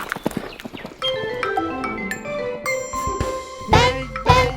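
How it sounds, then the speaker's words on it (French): A horse's hooves clip-clop in a rhythmic gallop, with a short whinny and bright bell-like chimes, set against sung children's farm-animal music with sustained tones. "Et le cheval gris qui galope la nuit"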